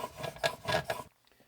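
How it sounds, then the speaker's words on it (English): A Stanley spokeshave blade is honed at a 35-degree angle on a sharpening stone, giving three or four close, rhythmic gritty rasping strokes that stop abruptly into near silence. "So I have this set to 35 degrees, and I'm just going to hone."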